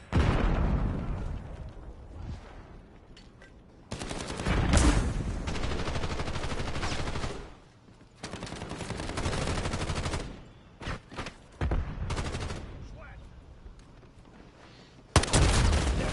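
Rapid shotgun fire and gunfights in FragPunk, loud blasts in dense bursts broken by short lulls, with booming impacts and echoes across a busy game soundscape.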